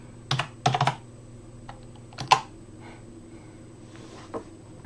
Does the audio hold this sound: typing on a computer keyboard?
yes